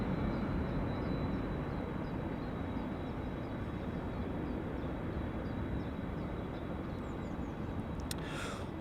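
A KLM airliner taxis at Amsterdam Schiphol Airport, a steady distant jet engine rumble under broad wind-like noise, with a faint high whine and a brief click near the end.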